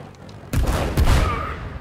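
A rocket explodes in the video game It Takes Two, giving a sudden loud, close blast followed by a second burst and crackling, rumbling debris that fades out.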